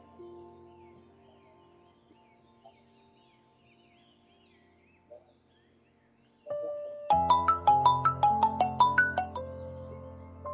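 A quiet stretch with faint sounds, then a loud electronic ringtone bursts in, playing a repeating run of bright chiming notes.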